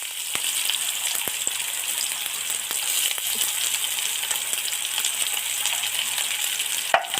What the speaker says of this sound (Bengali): তেলে পেঁয়াজ কুচিটা দিয়ে দিচ্ছি।